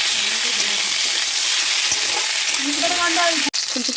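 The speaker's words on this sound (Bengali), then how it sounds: "তেলেতে অল্প হলুদ দিয়ে ফুলকপিগুলো এক এক করে দিয়ে ভালোভাবে ভেজে নিতে হবে" Cauliflower florets fry in hot oil with a little turmeric, making a loud, close, continuous sizzle with small bubbling bursts and a brief clatter near the end.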